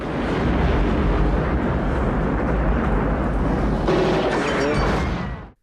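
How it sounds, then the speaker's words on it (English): A staged movie explosion from multiple special-effects charges on the 1987 RoboCop set, a loud sustained roaring blast rumbling for about five seconds before cutting off abruptly. "Special effects coordinator Dale Martin designed an explosion using multiple charges strategically placed to create maximum visual impact while directing the blast safely."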